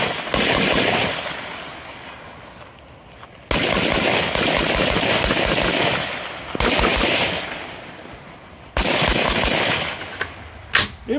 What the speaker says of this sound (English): that was a nice long range shooting